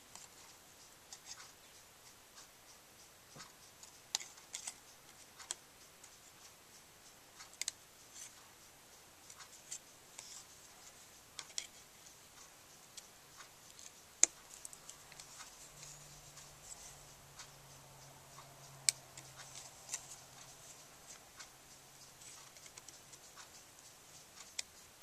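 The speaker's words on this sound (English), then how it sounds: "I'm going to go ahead and cut through that to get to that space over here." Fine tip scissors snip around a stamped paper image in small, faint, scattered clicks and crisp cuts, quiet and close, with long soft pauses between the cuts.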